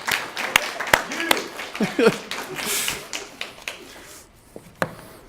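A small audience at a library poetry reading gives brief, sparse applause to the poet's two brothers, a few sharp individual claps amid murmuring voices that die away into near-silence with one last clap.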